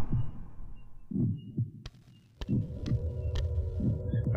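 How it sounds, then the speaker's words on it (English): A heartbeat effect from the video game Dementium: The Ward thumps in a slow, regular double-beat rhythm over a low hum, close and steady with a brief quiet gap midway. "that fucking heartbeat thing is super fucking annoying"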